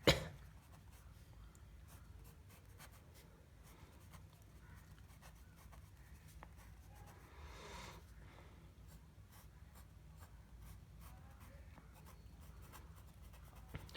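Faint pen strokes scratch steadily on paper while a chemical structure is written out by hand, quiet and continuous under low background hiss, no talking.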